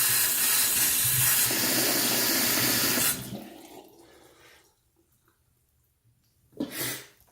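Water runs from a tap into a handheld steamer tank, a loud steady gush for about three seconds, then stopping, with a short splash near the end.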